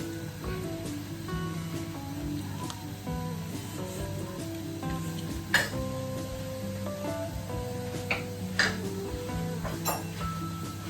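A whisk folds grated cheese into an egg mixture for a crustless quiche, soft swishing in a bowl broken by a few light clinks of metal against the rim, over a low steady kitchen hum.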